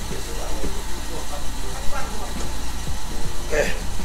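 A vehicle engine idles with a steady low rumble and hiss, close by, while people talk over it, at a container loading stop in East Timor just before shutdown.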